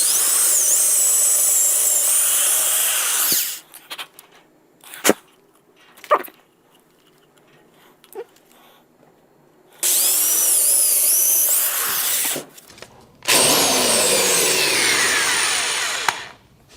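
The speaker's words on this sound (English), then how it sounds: "let's get these holes drilled." A power drill bores mounting holes for a Tesla Wall Connector in two or three loud bursts, each several seconds long. Sharp knocks and clatters from handling fall between the bursts.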